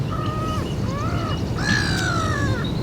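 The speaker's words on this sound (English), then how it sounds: "Very noisy seagull." A seagull calls noisily several times in a row, loud harsh squawks against steady background noise.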